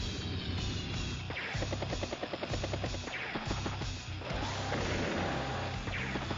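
A battlecopter unit in Advance Wars: Days of Ruin, heard as a rhythmic whirring rotor chop with crunchy impact hits, all loud and dense game audio with no voice on top.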